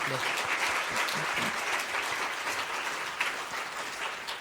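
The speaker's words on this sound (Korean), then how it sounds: "우리 두 분 박수로 격려하겠습니다" Sustained congregational applause fills a church sanctuary during a Sunday worship service, a dense, steady wash of many hands clapping to encourage two members, with faint voices mixed underneath.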